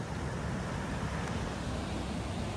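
Heavy ocean swell surging onto a wet rocky shore below a clifftop bay, a loud, steady broadband roar of surf mixed with wind buffeting the microphone, no distinct wave breaks standing out.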